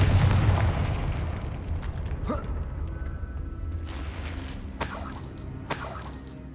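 A Confringo fire spell bursting in the Hogwarts Legacy video game, with a heavy rumbling blast at the start that fades into creaking, clattering mechanical noises and a few sharp metallic hits later.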